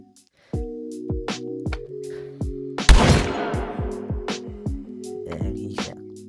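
Shotgun blasts in a VR gun video game: one loud burst stands out amid repeated sharp gunshot transients over a steady tonal game background hum.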